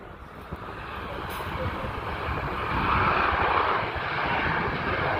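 CF-18 Hornet fighter jets passing over the Cold Lake airshow, a broad, steady roaring rumble that swells louder midway through before easing slightly, with no clear talk over it.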